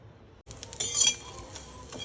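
Dried bombil fish roasting in a pan in a home kitchen, with scraping and clinking of a utensil against the pan and a soft sizzle, rising briefly in the middle, with no talk.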